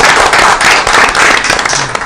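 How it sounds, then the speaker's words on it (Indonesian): A loud burst of audience applause at a launch event for the Ayo Belajar education platform, dense clapping from a crowd that stays strong throughout. "Tepuk tangan dulu untuk Ayo Belajar."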